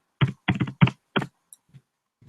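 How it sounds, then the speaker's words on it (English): A word is typed on a computer keyboard as four quick, close keystroke taps in an uneven rhythm, followed by a few fainter clicks. "And then I'm just going to type brilliant."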